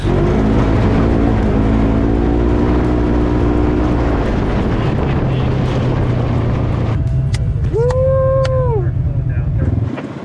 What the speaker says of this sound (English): You cruise along bumps, the suspension travel helps, there's no jarring motions in this vehicle.